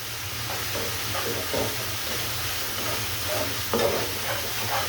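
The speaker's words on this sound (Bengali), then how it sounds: "মশলাটা এইভাবে কষিয়ে নিতে হবে।" Spice masala fries in oil for a koi fish curry, a loud dense hiss with soft rhythmic scrapes of stirring and an occasional sharper clack, heard up close with no talk.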